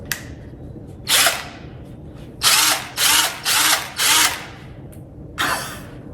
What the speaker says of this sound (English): I got a drill.